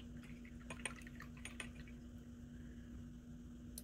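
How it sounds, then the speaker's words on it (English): A watercolor paintbrush is swished and rinsed in a water jar, giving faint, soft splashes and light taps in quick bursts early on over a low steady hum in a quiet room. "I want to rinse off my brush."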